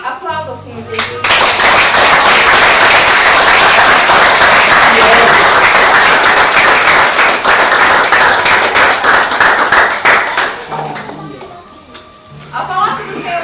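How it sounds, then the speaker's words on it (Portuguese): A church congregation claps loudly and continuously for about ten seconds during a Portuguese-language sermon, with a preacher's voice heard briefly at the start and end. "Aplauda o Senhor Jesus."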